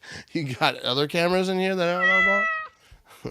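A house cat meows in a long drawn-out wail close by, indoors, overlapping with a man's speech.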